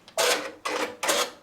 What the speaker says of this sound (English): Let me hit the needle threader button.